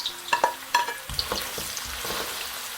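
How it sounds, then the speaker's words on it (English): Red and white onions frying in oil in a pan, a soft sizzle with scraping stirring sounds and clinks of a utensil against the pan, close by. "I first put in my oil, my onions."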